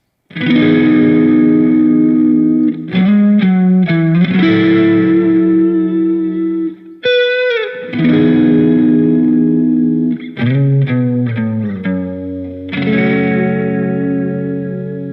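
Electric guitar with heavy effects plays the verse of a worship song: strummed chords and quick fills, washed in chorus, delay and reverb, with a brief pause midway.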